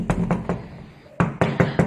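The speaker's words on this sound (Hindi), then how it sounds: "अभी उनकी आंख लगी ही थी कि उनके दरवाजे पर जोरों की दस्तक हुई।" Loud knocking on a door in a horror story: three sharp raps, a brief pause, then four more forceful knocks in quick succession, near and alone.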